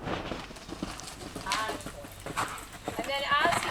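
Horse Valance trotting through a warm-up at a riding academy in San Diego, steady close hoof clip-clops in an even rhythm, with a person talking over them.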